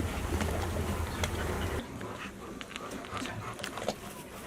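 Dogs barking and whimpering at a distance, several animals in a noisy, echoing space with a steady background din.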